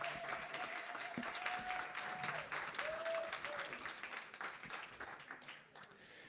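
Church congregation applauding in a steady wash of clapping, with faint voices and a sustained tone in the background, fading slightly toward the end.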